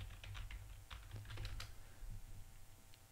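Quick keystrokes on a computer keyboard while entering a plugin name into a WordPress admin page, a close, steady patter of clicks that eases off toward the end, with a low electrical hum underneath and no talking.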